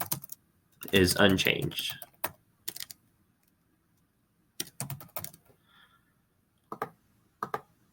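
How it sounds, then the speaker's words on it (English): Fingers type on a computer keyboard in quick clustered bursts of soft clicks with pauses between, heard close and quiet as a voice speaks briefly. "we'll type this out"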